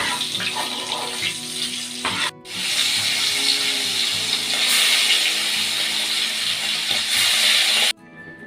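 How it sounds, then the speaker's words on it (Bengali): Chanda fish frying in a pan for a mustard fish curry gives a steady, close, broadband sizzle that runs almost unbroken. It cuts out briefly twice and then resumes at the same level, with no one talking. "বাদ বাকি যে মাছগুলো আছে সেই মাছগুলো আমি আস্তে আস্তে ভেজে নেব"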